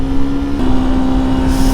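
A Jawa 350 motorcycle with sidecar drops down a gear, its engine note humming steadily and then stepping to a new pitch with a short break in the drone, alone without talk.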